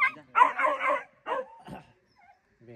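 A household dog gives several short yipping barks and whimpering yelps in quick bursts, fairly close, with brief pauses between calls.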